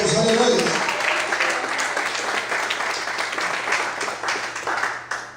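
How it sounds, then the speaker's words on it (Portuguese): A church congregation claps during a worship service, a burst of applause from the room that carries on in uneven waves and fades toward the end, with voices mixed in. "você pode aplaudir e exaltar a Deus"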